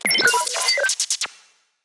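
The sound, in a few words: layered reversed robot bleep samples from a sci-fi drums pack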